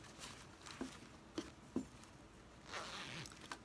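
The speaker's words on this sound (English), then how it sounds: "close the zipper partially" A zipper on a small sewn fabric catch-all bag is pulled closed in a few short quiet tugs, faint and close, with light rustling of the cloth.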